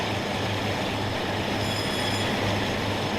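A Class 52 diesel locomotive runs on the seawall of the Riviera Line in Train Sim World 6, a loud steady rumble of engine and rolling wheels with a faint high squeal partway through and no talking.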